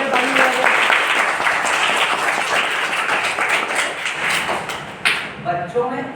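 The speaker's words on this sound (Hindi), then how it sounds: "चौथे हमारे अचीवमेंट्स के लिए पहले ताली बजाइए।" Audience applause at a motivational seminar held at Dedtalai Public School, a dense, steady round of clapping that runs loud for about five seconds before trailing off as a voice begins speaking.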